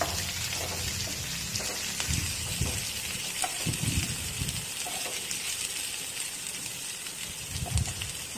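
Small onions (shallots) frying in oil for a Kerala prawn theeyal, a steady, faint, rain-like sizzle with soft crackles scattered throughout.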